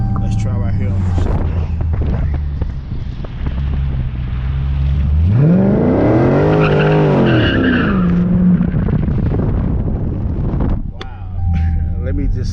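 A tuned 2019 Dodge Challenger ScatPack launches hard, its tires squealing, then its engine roars up through a long rising pull before easing off, with wind buffeting throughout.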